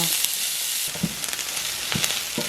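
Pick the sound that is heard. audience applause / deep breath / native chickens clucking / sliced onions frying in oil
sliced onions frying in oil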